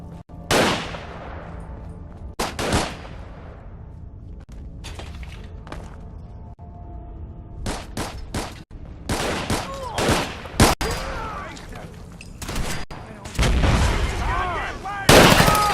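Gunfire in Fallout 4: repeated loud shots in irregular bursts, some single cracks and some rapid clusters, with short gaps between them and a heavy volley near the end.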